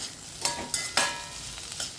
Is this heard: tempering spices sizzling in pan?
yes